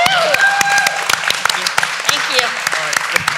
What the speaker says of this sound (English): round of applause, too.